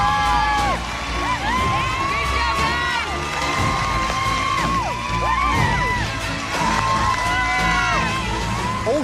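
Young former contestants cheer loudly in a cooking-competition kitchen, a dense crowd of children's shrieks, whoops and yells sustained throughout, close and energetic.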